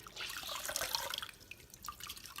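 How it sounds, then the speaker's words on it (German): Water drips and trickles from a plasma cleaning cloth dipped in clear water, a faint, close patter of drops with no talking. "Dann werde ich das einfach in Wasser tauchen."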